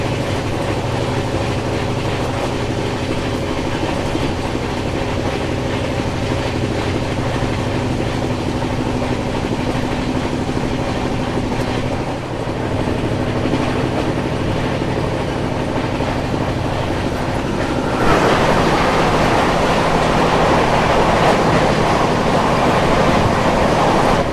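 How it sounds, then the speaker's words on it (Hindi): The Delhi Fazilka Intercity Express runs on the rails near Panipat Junction, a steady, loud, continuous rumble with wheel noise that brightens and grows harsher toward the end. "से आ रही है दिल्ली फाजिल्का इंटरसिटी एक्सप्रेस"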